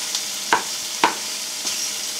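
Bacon and onion frying in a pan on a home stove, an even sizzle broken by a few sharp pops and spits, with no one talking.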